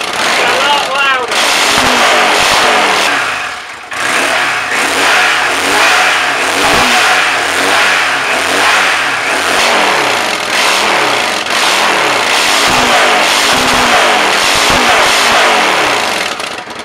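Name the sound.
Yamaha Dragstar motorcycle revving with modified exhaust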